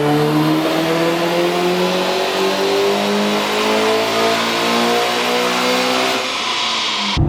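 A Mitsubishi Evo X with a 4-inch exhaust and custom fuel kit revs loud and close, its engine note climbing steadily for several seconds before cutting off abruptly at the end.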